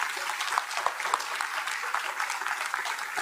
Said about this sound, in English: that's a really round of applause for everybody